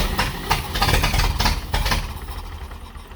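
A Ford Model A rat rod engine idling roughly, a low uneven chugging with irregular pulses and clatter, close by and fairly loud, settling slightly toward the end.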